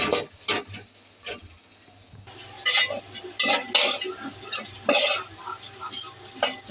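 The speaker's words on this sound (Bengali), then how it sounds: "এখন পেঁয়াজটাকে ভালো করে ভাজতে হবে।" Onions fry in hot oil while a utensil scrapes and stirs them in the pan, producing a busy sizzle with irregular clinks and scraping strokes, close and moderately loud, with no talking.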